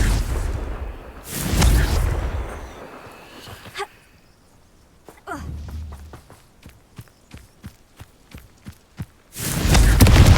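Two heavy Confringo blasting-curse explosions in Hogwarts Legacy boom loudly at the start and the end. Between them comes a run of quick, evenly spaced thuds and clicks like footsteps, with no voices.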